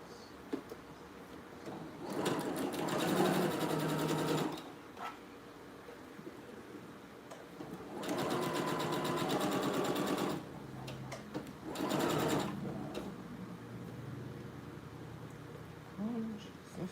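A sewing machine stitches a facing onto a shirt in three distinct bursts of rapid mechanical clatter, each lasting two to three seconds, separated by quieter pauses in a room.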